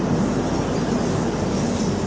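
A steady, loud rumble inside a moving train, continuous low roar of the carriage with no distinct clacks or voices.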